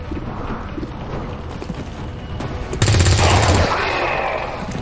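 Video game gunfire bursts in a loud, busy combat scene, with a dense rapid volley erupting near the middle and continuing for a second or so amid ongoing mechanical clatter and background noise.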